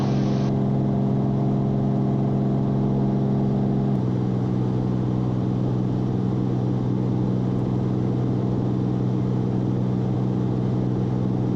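A small airplane's piston engine drones steadily in flight on a trip from Bedford, Massachusetts to Syracuse, New York, a loud, unbroken hum with a strong low tone and no talking.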